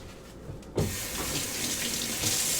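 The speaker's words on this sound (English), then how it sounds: "This is me scrubbing an apple." Running water from a kitchen tap splashes steadily into a sink while an apple is scrubbed under the stream, beginning with a sudden gush that then holds a continuous, fairly loud flow.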